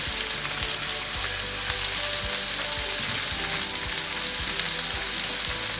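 Sliced garlic and ginger sauté in oil in a pan with a dense, constant, close sizzle, and a few faint utensil knocks beneath it.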